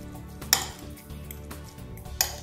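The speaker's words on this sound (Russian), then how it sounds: "Перемешиваем." Avocado and lemon mixture being stirred in a bowl, with soft scraping and two sharp clinks of utensil against the dish. The sound is quiet and close, with no talking.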